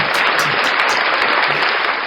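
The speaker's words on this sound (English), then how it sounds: "So I'd like to give them a big clap." A short burst of applause sound effect played during a casual talk broadcast, thick uniform clapping at full volume with no voices over it.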